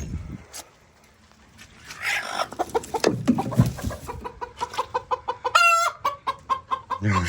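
Chickens cluck in a farmyard: first scattered, faint calls, then a steady run of short, rhythmic clucks near the microphone, with one brief louder squawk toward the end.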